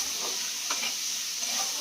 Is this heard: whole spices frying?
yes